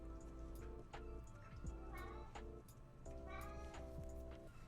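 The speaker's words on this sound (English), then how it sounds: "Kitty, I'm not gonna feed you now." Indoor cat meowing repeatedly, several drawn-out, insistent meows in close succession, fairly near and clear with quiet room tone between calls.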